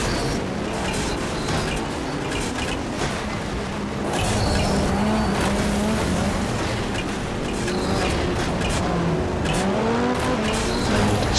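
A race car in the MotorStorm video game brakes hard and skids, tires squealing in rising and falling tones over a loud, steady engine roar that keeps going throughout.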